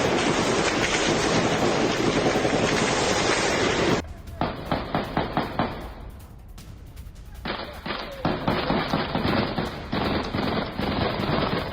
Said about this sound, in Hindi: फायरिंग की आवाज आप सुनिए।